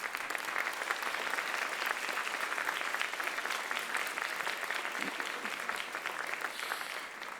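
An awards-ceremony audience applauds the institutional advancement staff, a steady, dense wash of many hands clapping for several seconds before tapering slightly at the end, with no talk over it.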